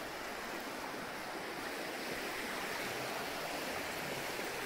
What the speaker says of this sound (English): Just love the sound of the water.